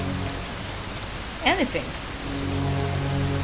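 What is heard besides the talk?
rain falling in the video game Far from Noise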